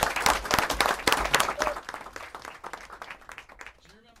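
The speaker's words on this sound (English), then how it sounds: "Let's give them a big round of applause." A school committee meeting audience bursts into dense clapping that gradually thins into scattered claps and tapers off, with a voice faintly audible near the end.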